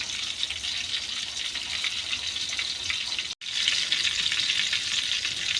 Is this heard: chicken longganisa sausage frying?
yes